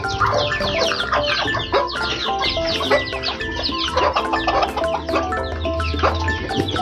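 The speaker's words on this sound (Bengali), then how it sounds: "এই যে খাঁচার ভিতরে বড় বড় মুরগ।" Many large native chickens in a cage on a poultry farm cluck and squawk continuously in a dense, overlapping chorus, close by, with no talking.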